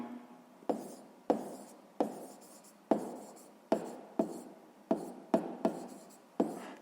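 A pen scratches across paper in short strokes with clear pauses between them, about a dozen distinct bursts written close by in a quiet room.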